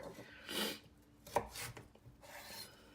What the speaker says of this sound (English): I'm gonna just cut it into smaller pieces here.